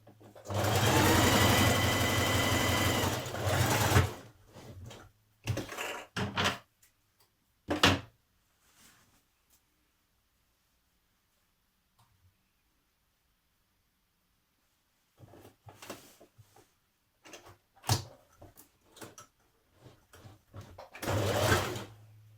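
Sewing machine stitching the shoulder seam of a New Look 6543 summer top, a loud whirring run of stitches at the start, then short bursts separated by quiet, and further brief runs near the end.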